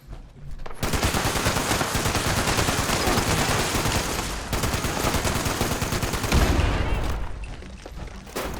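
A gun loaded with explosive ammo in Fallout 76 firing during a daily op in Vault 96, a loud continuous rapid stream of blasts in long sustained bursts with a brief pause midway and a heavy thump near the end.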